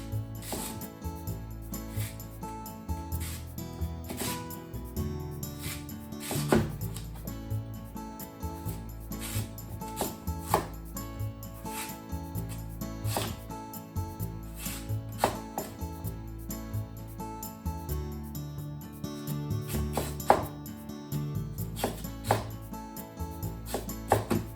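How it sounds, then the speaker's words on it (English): A knife cuts a washed sweet potato into shoestring sticks, giving a quick run of sharp, close chopping taps and board knocks in an uneven rhythm with no talk. "I'm going to cut it like shoestring potatoes"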